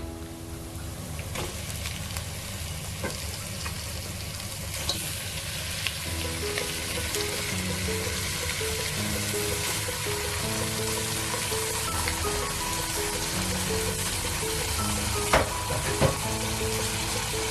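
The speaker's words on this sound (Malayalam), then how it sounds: "നമുക്കപ്പോ ചിക്കൻ ചേർത്ത് കൊടുക്കാം" Chicken pieces frying in a pan for Kerala-style chicken thoran, a steady dense sizzle running throughout with occasional scrapes and clinks of stirring, close and fairly loud with no talk.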